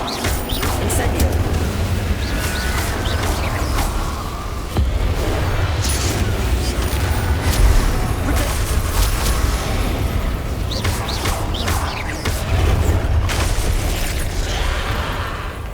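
Spell explosions, bursts and pops from combat in the Hogwarts Legacy video game, fired in rapid succession over a loud, dense mix of booming impacts and background effects, with a voice casting spells throughout.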